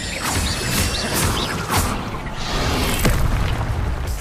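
Spell-casting effects from a Harry Potter game: a dense, continuous magical roar and crackle with booming bursts and whooshing sweeps, sustained loud throughout with no speech.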